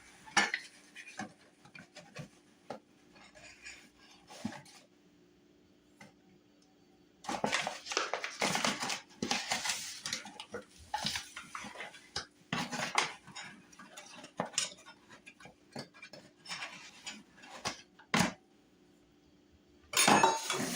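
A spoon stirs whole wheat bread ingredients in a bowl, with intermittent bursts of scraping and clinking separated by quiet pauses, close and fairly soft.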